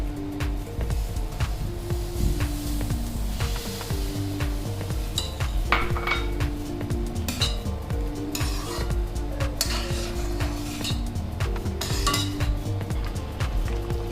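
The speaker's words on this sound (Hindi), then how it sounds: "अब मैं इसमें धीमे धीमे सूजी डालूंगी। गैस मेरी तेज पे ही है।" Semolina being stirred into a hot pan for vegetable rava upma over a high gas flame gives steady scraping and light metallic clinks with a faint sizzle, continuing throughout under soft background music.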